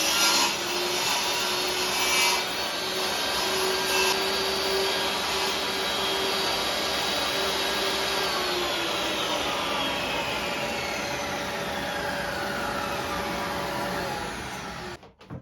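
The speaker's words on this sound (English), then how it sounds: "So I'm just going to cut off an oversized chunk and then I'll tidy it up on the planer thicknesser." A steady, continuous sawing or cutting sound runs through an oversized chunk of rough pine in a workshop for about fifteen seconds, close and even, then stops abruptly at the end.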